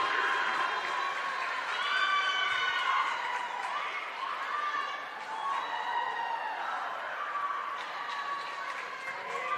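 Home crowd at a college sporting event on senior night cheering and shouting steadily, a loud continuous roar with rising and falling voices and scattered higher cheers throughout.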